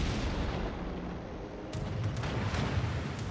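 Battleship Massachusetts firing its secondary guns in World of Warships, heard as a few sharp distant cracks over a constant heavy rumble of battle noise, with no voices.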